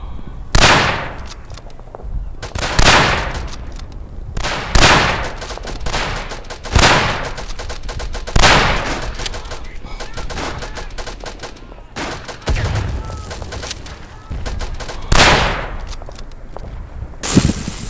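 Rapid automatic gunfire from a machine gun in the World War I shooter game Verdun, loud bursts repeating every second or two across the whole stretch with brief gaps between them.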